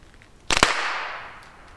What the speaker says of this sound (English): There's no gunpowder in them, but they make a nice bang